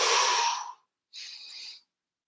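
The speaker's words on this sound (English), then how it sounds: "Now take a breath out" Two exhalations during a stretching exercise, a long audible breath out followed by a shorter, softer one after a brief pause, close and clear with no talking.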